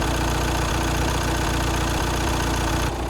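An Audi A4 B8 allroad TDI diesel engine idles up close with a steady low rumble and a rapid, regular ticking clatter throughout, cutting off near the end.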